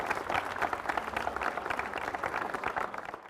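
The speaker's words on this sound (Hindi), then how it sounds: "इनका भी जोरदार तालियों से अभिनंदन कीजिए" An audience at a panel discussion on higher education gives a physics expert a loud welcome. Hearty, continuous clapping fills the whole moment and stops abruptly at the end.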